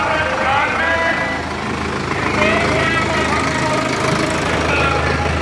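A Sonalika tractor engine, a DI 60 Tiger or 750 DI series model, runs steadily at a loud, continuous idle-like drone with a low rumble and some mechanical knock throughout.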